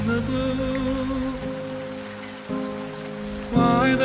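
A rain sound effect patters steadily beneath a slow, sustained pop song, a soft, even hiss of falling drops that continues under the music.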